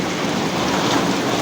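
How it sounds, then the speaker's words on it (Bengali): Rain pours onto a city street near a flyover as a dense, steady, even hiss with no pauses, close and fairly loud throughout. "তো এখানে শুরু হয়ে গেল বৃষ্টি"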